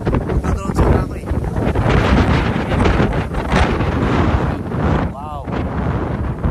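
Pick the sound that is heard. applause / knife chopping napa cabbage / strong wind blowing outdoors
strong wind blowing outdoors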